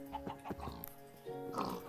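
Rapid grunting pig oinks in Minecraft, several short snorts in quick succession over a steady electronic background hum.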